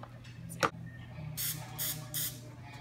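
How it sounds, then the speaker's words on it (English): Three short bursts of baking spray hiss in quick succession into a mini cupcake pan, close and fairly loud, following a brief clatter over a low background hum. "I'm going to spray it with pan baking spray."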